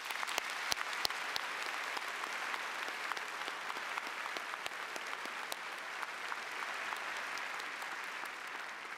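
Applause from an audience at a Raytown High School ceremony, a steady wash of many hands clapping with sharp, distinct individual claps standing out near the microphone, fairly quiet overall and continuing evenly throughout.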